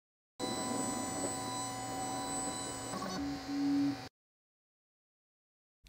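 A 3D printer homes itself after a G28 command, giving a steady whirring hum of moving axes for about three seconds before the pitch shifts into a louder motor whine that stops abruptly, followed by silence.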